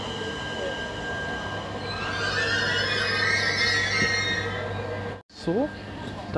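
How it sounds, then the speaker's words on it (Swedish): A train pulling into a station platform in Sweden, with a rising rumble, a brief high whine and squeal of wheels, then a sudden cut and a short brake hiss, while people talk at times. "där kom tåget in till perrongen"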